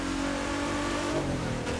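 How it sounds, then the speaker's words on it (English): A brassy, trombone-like hypercar engine revs steadily in The Crew 2 racing game, loud and continuous with sustained tonal harmonics throughout and no talk over it. "it has the engine sound I like to describe as brassy"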